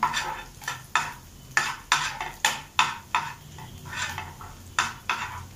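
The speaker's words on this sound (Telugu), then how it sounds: "నేను ఇక్కడ ఆనియన్స్ యాడ్ చేస్తున్నాను" Chopped onions being stirred in a frying pan for paneer 65, a spatula scraping in steady repeated strokes over a soft sizzle, close and fairly loud with no talking.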